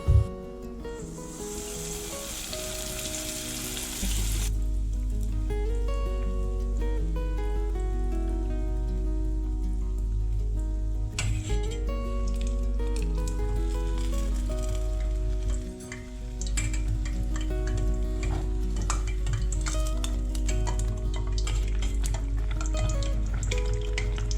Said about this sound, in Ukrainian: Смажити будемо у великій кількості олії.